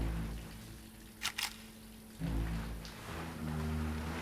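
Two quick video game camera shutter clicks snap in succession over a low, rumbling background hum, with no talking.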